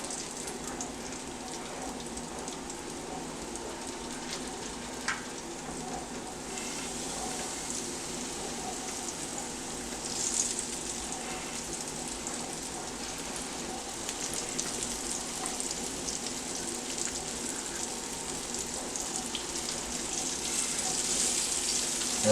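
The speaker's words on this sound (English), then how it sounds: "we're going to let that fry up" Beef liver frying in a skillet on a stovetop at medium-low heat: a soft, continuous sizzle and crackle, fairly quiet and steady, with occasional faint pops and brief indistinct voice in the background.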